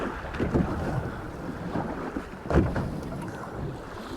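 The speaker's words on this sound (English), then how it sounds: "Well, it's quite windy out here, a few white horses." Wind blows steadily over open sea off the UK coast, heard from a small fishing boat, with a low rushing roar and occasional gusty swells striking the microphone.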